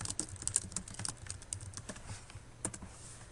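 Someone types a short run of quick, light keystrokes on a computer keyboard, quiet and close, with uneven rhythm and no talking.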